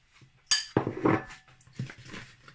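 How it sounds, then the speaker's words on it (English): A spoon clinks and scrapes against a bowl while puff puff batter is mixed, with a few sharp knocks followed by softer stirring sounds, close by and without talk. "So I'm just going to mix everything"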